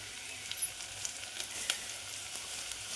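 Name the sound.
onions frying in a pan for chicken curry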